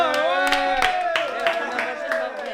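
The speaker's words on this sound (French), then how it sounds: "On peut s'applaudir." A few people clap in a small, irregular burst after eating homemade cakes, their claps scattered over a steady tonal background with voices speaking over it.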